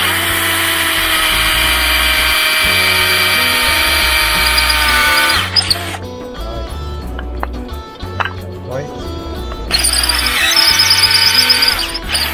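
A power drill bores indentation holes while a rear expedition platform is fitted to an LC300. Loud, steady whirring runs at the start, breaks off into a quieter stretch of clatter and handling, then starts again near the end.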